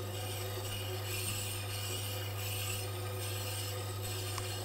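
A Tormek sharpening machine grinds a woodturning tool against its wheel, making a continuous close rasping, rubbing drone with a steady low hum underneath and no voices.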